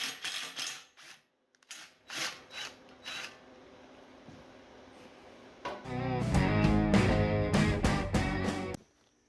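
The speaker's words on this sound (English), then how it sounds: "Here I'm using my speed taps, 5/16 by 18 threads per inch." Speed taps cut 5/16-18 threads into metal in a workshop, giving rasping, ratcheting scrapes in short bursts, then a louder sustained grinding stretch with rhythmic strokes.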